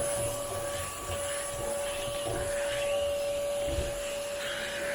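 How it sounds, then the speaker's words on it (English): A vacuum cleaner runs steadily with a constant high whine and airy roar, close and unbroken throughout, during a pre-vacuum of very hairy living room furniture. "You know how to open this vacuum right here?"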